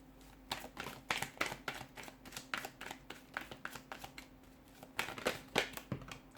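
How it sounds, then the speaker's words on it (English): Rapid bursts of tarot cards riffling and snapping close by, in several quick runs separated by short pauses, with soft handling noises between. "let's go ahead, give the cards a shuffle"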